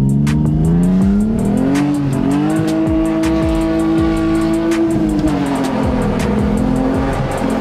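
A BMW E46 engine runs loudly and close up while warming after a start, its tone rising in pitch early on and then settling into a steady, slightly wavering idle.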